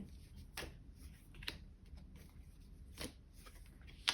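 Tarot cards are shuffled and drawn in a quiet room, with soft riffling flicks and a few sharp card snaps spaced a second or so apart, close and fairly faint.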